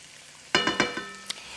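Asparagus spears hitting hot oil in a pan, a sudden burst of sizzle with a few clattering knocks as they settle, then a quieter crackle and one more brief clink, close by.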